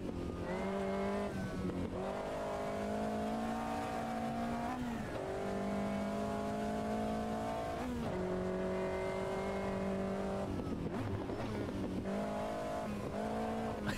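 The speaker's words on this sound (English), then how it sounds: "this car sounds like it's faster than it is" A racing car engine in the video game Automobilista 2 roars steadily, its pitch rising through the gears with brief drops at each shift, loud and continuous throughout.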